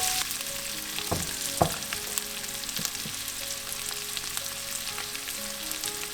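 Onions frying in a pan with cardamom pods and a cinnamon stick, a steady close crackling sizzle with a few sharp utensil knocks and stirring scrapes.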